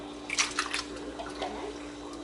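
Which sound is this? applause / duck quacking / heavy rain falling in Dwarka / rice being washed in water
rice being washed in water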